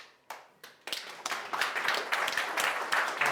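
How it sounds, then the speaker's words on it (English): An audience at a software testing talk starts clapping with a few scattered claps that quickly build into dense, steady applause, close and lively, with no one speaking over it. "It's too early to clap."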